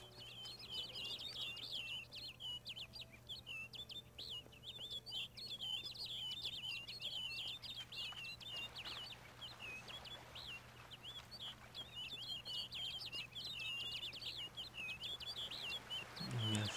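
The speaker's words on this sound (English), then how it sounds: "Looks like the bird's leading me somewhere." Birds chirp and tweet steadily in a woodland scene in The Witcher 3: Blood and Wine, with many quick high calls repeating throughout over a low constant hum, fairly close and clear, with no talk.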